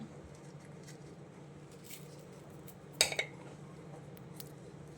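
Sabudana, boiled potato and crushed peanuts go into a bowl for a fasting sabudana paratha, with a sudden clink and clatter of a utensil against the bowl midway, then a quiet kitchen background.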